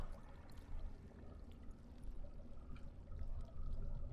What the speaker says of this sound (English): Fill jug with water.